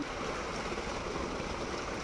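Hot spring water flows steadily into farm fields, a continuous broadband rush and gurgle at moderate distance with no voices.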